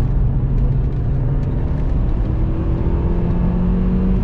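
A rally car in an autosprint on the Biķernieki race track accelerates hard, a loud, close, continuous engine roar with rising pitch throughout.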